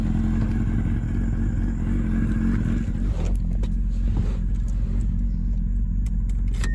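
A 2006 Mazda Miata's four-cylinder engine idles and rumbles with a steady low drone up close, and faint clatter and ticking sound over it, with no talking.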